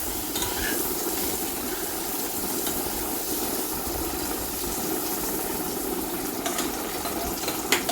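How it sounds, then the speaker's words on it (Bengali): Eggs fry in hot oil with a constant, close crackling sizzle, with a few faint clicks near the end. "এবারে আমি ডিমগুলোকে ভেজে করে নিচ্ছি"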